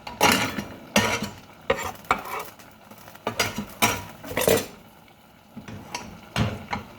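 A spoon scrapes and clanks around a pot of homemade chili in irregular bursts, loud and close with brief pauses between strokes.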